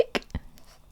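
A voice imitates hiccups while reading a children's story aloud, giving two short, sharp hiccup sounds in quick succession followed by faint breathy noise, soft and close.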